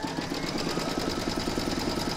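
An embroidery machine stitches a round of a log cabin quilt block coaster held in a hoop, giving a fast, even mechanical chatter of needle strokes that runs loud and continuous, then cuts off abruptly at the end.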